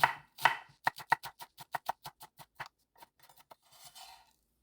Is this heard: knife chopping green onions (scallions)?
yes